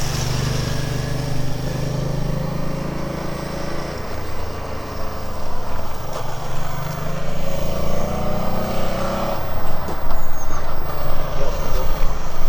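A Porsche 991 GT3 and a 1973 911 RSR drive a country road together, their engines a loud, continuous drone that swells and grows rougher toward the end.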